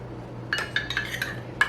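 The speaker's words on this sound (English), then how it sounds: "I'm going to just scoop it in" A metal measuring cup scoops icing sugar into a jar, giving a quick series of six faint metallic clinks and taps against the glass in a quiet kitchen.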